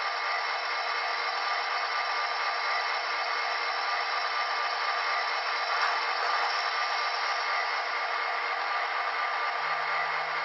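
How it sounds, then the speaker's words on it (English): An SD40-2 N scale model locomotive plays sound effects, giving a steady, even hiss of air filling and releasing that holds at one level for about ten seconds with no talk, ending on a brief low tone. "Then an air fill and air release."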